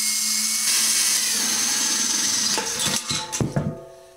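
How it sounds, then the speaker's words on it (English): A handheld power drill bores a quarter-inch hole through thin metal for a simple rocket stove, a steady close whine that shifts in pitch, then breaks into short bursts and rattles as the bit goes through. "Next I'm going to drill a hole, a 1/4-inch hole or something like that, inside the circle."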